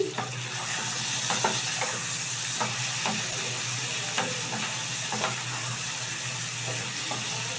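Pumpkin and potato curry is stirred in a frying pan over a steady sizzle, with a spoon scraping and tapping at irregular intervals close by, and no one talking.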